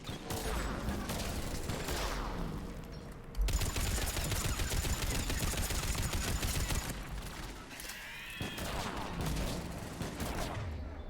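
Automatic turrets in the video game Mass Effect 3 fire sustained rapid bursts of gunfire, dense rattling volleys that pause briefly and resume, loud and close with no voices.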